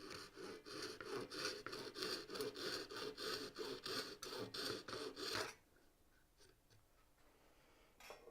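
Wood is sanded by hand with 240-grit sandpaper on a small box, making about a dozen rhythmic back-and-forth rasping strokes that stop abruptly partway through. A few faint taps follow in near silence.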